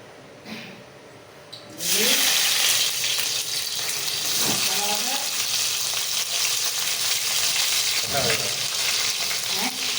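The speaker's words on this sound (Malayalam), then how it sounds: "കടുക് കണ്ണു പൊട്ടട്ടെ" Mustard seeds crackle and sizzle in hot oil for a Kerala kappa and fish-head curry, a loud steady frying hiss that begins abruptly and continues with scattered pops and stirring scrapes.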